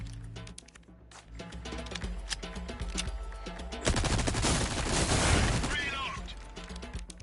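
Gunfire in Resident Evil 4 Remake, with repeated shots and rapid bursts building into a louder, denser barrage toward the middle, set against a tonal background and voices.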